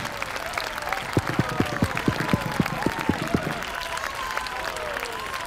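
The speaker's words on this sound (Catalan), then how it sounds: "I ara rebem amb un fort aplaudiment" A studio audience on the Catalan satirical show Polònia welcomes Lluís Llach, played as a character at La Jonquera, with warm continuous applause. Steady rhythmic thumps run through the middle, and voices and cheers mix in throughout.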